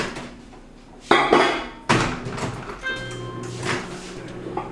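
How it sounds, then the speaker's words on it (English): A bar of chocolate is broken by hand into smaller chunks in a home kitchen for a no-churn Viennetta ice cream cake, giving a few sharp, close snaps with light clattering between them. "Go ahead and just break it into smaller chunks"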